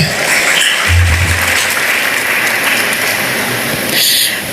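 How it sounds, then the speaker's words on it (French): Audience applause for Dr. Bernard Taillefer in a multipurpose hall at a university symposium in Jacmel, continuous close clapping with a brief low hum underneath. "Je vais encore une fois applaudir le docteur Bernard Taillefer."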